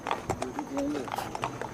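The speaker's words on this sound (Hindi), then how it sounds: "वो उधर से घोड़े जो हैं वो इधर आ रहे हैं" Hooves of horses clip-clop in Kuala Lumpur city streets as they arrive for a guard changeover, sharp irregular knocks close by under continuous talking.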